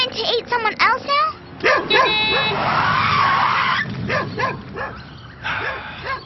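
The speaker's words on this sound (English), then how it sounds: "They're just noisy dogs, not nasty." Cartoon dogs bark and yip noisily in quick, overlapping bursts, loud and close, mixed with animated character voices and background music.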